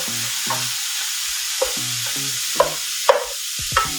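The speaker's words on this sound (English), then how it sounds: "turn the burner on over high heat and just cook it until you don't see the seasoning here" Burdock root and seasoning cook in a pan over high heat, a bubbling sizzle with repeated rhythmic stirring scrapes and a few sharp clicks, close and alone.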